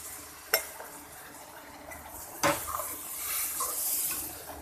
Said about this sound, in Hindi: अब पानी डालेंगे, पानी हम 2 गिलास डालेंगे।